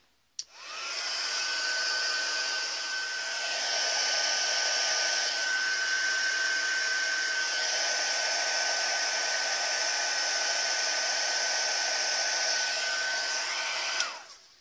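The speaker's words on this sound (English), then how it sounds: "I've got my heat tool here. I'm going to preheat it for around about 30 seconds till it's really hot" A handheld craft heat tool for card embossing runs continuously, a steady, fairly loud blowing whir with a faint whine that starts abruptly and stops near the end, with no talking.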